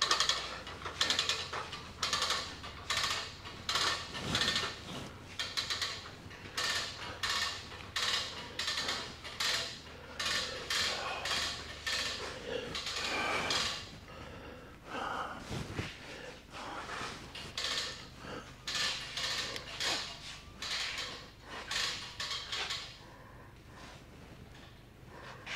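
A Vevor NT A15 hose reel's mechanism turns with a steady ratcheting, clicking rattle and bursts of gear noise, close and fairly loud, pausing briefly midway before the clicking resumes.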